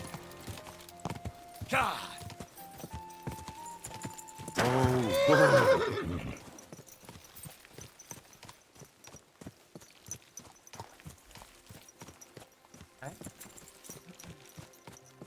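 Hooves of a horse in the video game Kingdom Come Deliverance 2 clip-clop in a steady, regular walking rhythm, preceded by loud neighing and whinnying, with a brief spoken exclamation early on.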